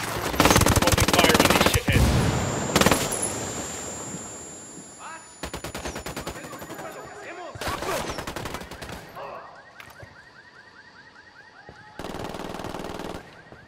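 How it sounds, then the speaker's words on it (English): Bursts of automatic gunfire in the video game Ghost Recon Wildlands, loud rapid volleys separated by short pauses, with several distinct rounds of shooting across the scene. "We're shooting everything just to scare off the VIPs and get Carzita back here."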